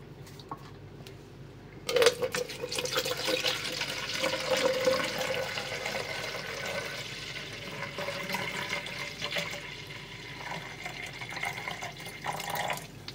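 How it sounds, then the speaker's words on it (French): Half a litre of vinegar is poured into a container for unclogging a sink: a close liquid splash begins sharply and continues as a steady trickling pour, with light clinks, then tapers slightly toward the end. "Il m'a dit de commencer par mettre un demi-litre de vinaigre qu'on va faire tout de suite."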